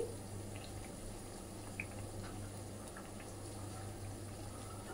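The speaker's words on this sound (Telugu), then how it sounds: "బ్రెడ్ పీసెస్ ఇలా 2 sides తిప్పుకొని గోల్డెన్ బ్రౌన్ ఫిష్ కలర్లో ఫ్రై చేసుకోండి" Bread pieces fry in a pan over a medium flame while making bread halwa, giving a faint, steady sizzling hiss that continues evenly throughout, with no one talking.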